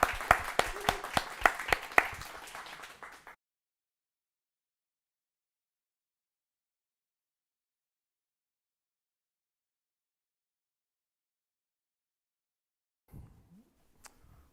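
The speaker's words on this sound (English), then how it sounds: "Right, and Adam, we've got a clap as well." An audience at a Melbourne CocoaHeads developer meetup applauds after a presentation. A short, dense burst of clapping lasts about three seconds, then cuts to long silence, with a few faint knocks near the end.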